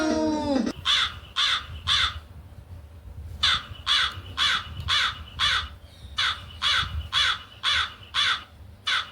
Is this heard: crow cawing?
yes